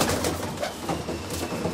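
A racing pigeon coos close by, a short series of low throaty coos with some background rustle and no talk.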